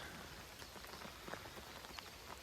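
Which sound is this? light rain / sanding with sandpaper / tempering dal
light rain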